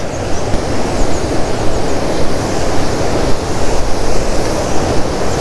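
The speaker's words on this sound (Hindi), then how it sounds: "है ये पानी की आवाज़।" Rushing water at Pocharam Dam forms a loud, steady, broadband roar close by. It holds constant for the whole stretch, with slight surges and no voices.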